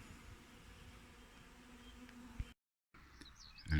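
Bees from a rescued wild colony hum in a faint, steady buzz throughout, broken by a brief silent gap near the end.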